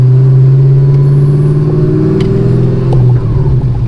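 Modified 940 hp Chevrolet Camaro ZL1 with long tube headers, exhaust valves closed in a quieter touring mode: a close, loud, steady low engine drone and rumble held for several seconds with little change in pitch.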